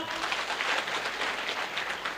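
Steady audience applause from a crowd at a student felicitation gathering with a kirtankar speaker, dense continuous clapping filling the whole stretch at moderate loudness with no voices.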